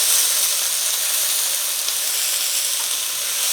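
Greens sauteing in a pan lightly coated with oil, giving a steady, close sizzle and hiss that runs unbroken at an even level with no talking.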